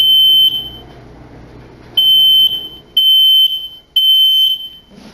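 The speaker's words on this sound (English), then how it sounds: "My smoke alarm went off" A smoke alarm sounds in a quiet room with a piercing high beep, three to four loud, evenly spaced bursts each lasting about half a second, with no voices.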